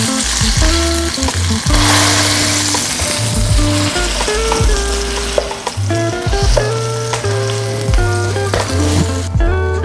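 A sausage patty sizzles in a pan over medium-high heat for a homemade McGriddle-style breakfast sandwich, a loud, continuous crackle under rhythmic background music.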